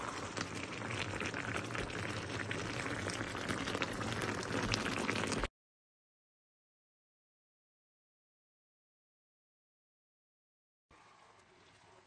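A sauce with added water bubbles over high heat, a loud, dense simmering hiss that runs steadily for about five seconds, cuts to silence, then returns more faintly near the end.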